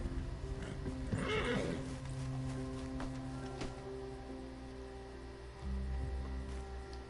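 A horse in the Red Dead Redemption 2 game whinnies loudly near the start, followed by hoof clip-clops and low ambient game sounds, with a deeper rumble toward the end.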